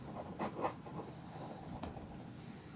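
Writing on a board during a maths lecture produces soft scratchy strokes in short bursts, quiet and close, with no speech over them.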